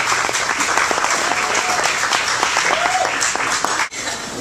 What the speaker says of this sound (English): Please welcome and give her a nice round of applause, Rohnda Ammouri, president of the organization